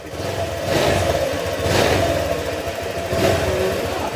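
A motorcycle engine runs steadily at close range, its loud mid-pitched drone and rattle continuing without a break, with a few swells in intensity.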